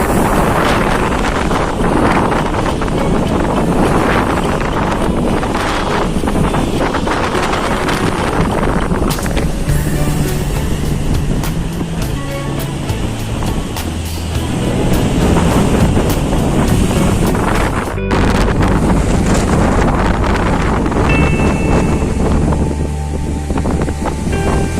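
Strong west monsoon wind roars across the Gili Ketapang coast, buffeting the microphone in a loud, unbroken rush with surf and a boat's low hum beneath it for the whole stretch.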